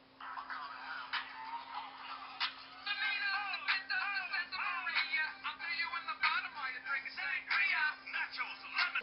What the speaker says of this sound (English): This is what plays when I have to wake up for school.